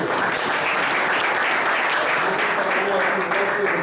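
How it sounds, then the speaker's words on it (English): An audience at a conference session gives dense, steady applause for two speakers, continuous and close throughout. "can we have a round of applause for the two?"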